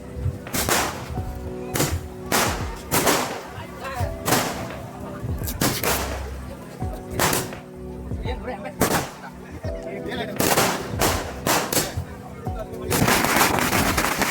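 Firecrackers burst at a Bengali wedding, a long run of loud, sharp bangs going off close by at uneven intervals with some rapid clusters, and crowd chatter underneath.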